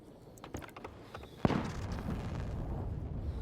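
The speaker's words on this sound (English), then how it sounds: "let's have a little explosion" An explosion in the video game Stationeers: one sharp, loud blast after a few small clicks, followed by a sustained rumbling roar that lingers and fills out the rest of the moment.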